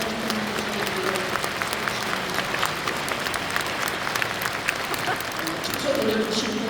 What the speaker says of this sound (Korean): 우리 자리에 일어나실 때 따뜻한 격려에 감사의 박수를 드리겠습니다.